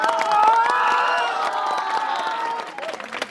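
A crowd at a Bhojpuri star's entry event in Ara claps and cheers, a loud sustained wash of applause, whoops and shouts that swells early and then gradually thins with scattered claps.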